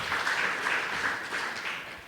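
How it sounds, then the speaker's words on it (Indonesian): A church congregation claps and applauds steadily for a couple of seconds, a dense wash of hand claps that fades slightly at the end. "Berikan tepuk tangan meriah buat Tuhan kita"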